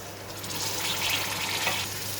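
Potatoes and eggplant for a Punjabi-style sabzi fry in a pan with a dense, constant crackling sizzle, swelling slightly as the vegetables are stirred, with no voices.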